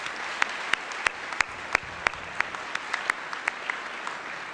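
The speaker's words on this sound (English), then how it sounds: "you all deserve another round of applause for your work and dedication" A commencement audience applauds the graduating class, sparse individual claps ringing out as distinct sharp spikes over a soft hall ambience, a thin scattered round rather than a dense ovation.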